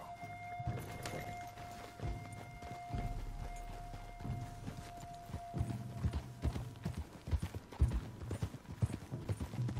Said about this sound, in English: looks like we get to go for a little ride with Charles